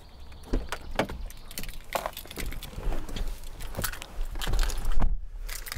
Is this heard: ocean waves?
no